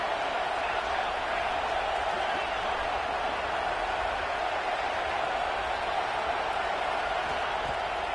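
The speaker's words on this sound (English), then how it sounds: "This crowd bringing the energy and noise early." A dense, steady roar from a large stadium crowd in the football video game NCAA 26 fills the whole stretch, continuous and even with no pauses.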